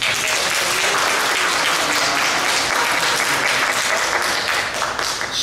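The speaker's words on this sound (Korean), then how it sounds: "잠깐 일어나시면 저희가 박수로 환영하도록 하겠습니다" Church congregation clapping to welcome a visiting mother-in-law from Korea during Sunday worship, a dense, steady roar of applause filling the whole stretch and tapering slightly at the end.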